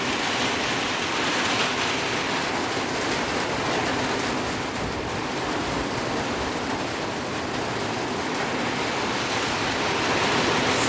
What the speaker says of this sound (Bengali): ছাদের পরে যে জল পড়তেছে না,